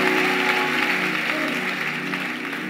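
Congregation at a church service applauding and cheering for Jesus, a dense continuous wash of clapping and crowd noise that stays loud throughout.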